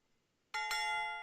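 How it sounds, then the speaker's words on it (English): Market opening bell at the start of a live trading session: a single bright, sustained ringing tone that starts suddenly after near-silence, with a second strike overlapping, fairly faint and alone. "That was the bell."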